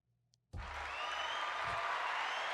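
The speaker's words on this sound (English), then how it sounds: "It's a applause." An applause sound effect fired from a soundboard pad bursts in abruptly after near silence, a dense steady wash of clapping that holds at full level to the end.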